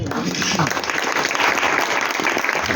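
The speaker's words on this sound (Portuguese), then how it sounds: "Aplauda o Senhor." A church congregation claps steadily and continuously, a dense wash of applause filling the space from start to finish.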